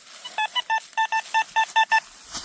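A metal detector sounds about ten short, clear electronic beeps in a quick, steady rhythm, up close with no voices.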